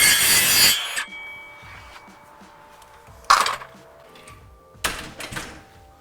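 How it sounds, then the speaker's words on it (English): A circular saw set to a deep plunge depth cuts a shelf cutout for a kitchen sink cupboard in three harsh bursts: a long opening cut, then two shorter ones, with quiet gaps between. "you can do this with a circular saw like I'm doing here with a very deep plunge depth"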